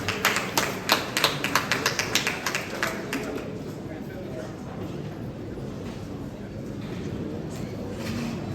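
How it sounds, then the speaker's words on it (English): An audience applauds Reverend Mrs. Gloria French at a parliament museum commissioning ceremony, a burst of sharp claps at the start that thins into a steadier crowd murmur. "Let's give her a round of applause."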